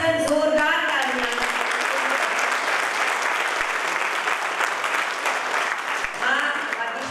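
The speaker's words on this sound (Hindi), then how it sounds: "एक बार पूरा सदन जोरदार तालियां" A packed hall at a Hindi poetry gathering breaks into loud, sustained applause that fills the room, with a few voices briefly heard at the start.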